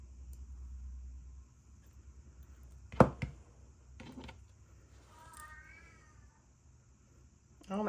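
A hungry cat meows indoors, a short rising meow midway through, with faint rumble, a couple of sharp knocks and brief handling noises around it and no speech.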